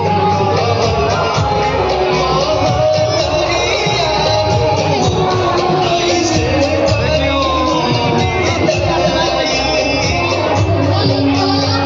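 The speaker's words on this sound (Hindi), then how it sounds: "भीड़ देख सके कितने भीड़ है माता विदा ले छथिन" Dense crowd at a Durga Puja immersion farewell procession in a village, a loud, continuous roar of voices with shouts and whoops throughout, close and crowded.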